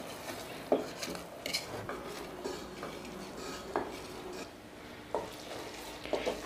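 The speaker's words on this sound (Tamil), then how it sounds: "வெல்லம் வந்து நல்லா கொதிக்கட்டும்." Jaggery syrup for athirasam bubbles and sizzles in a pan, with occasional clinks and scrapes of a stirring utensil.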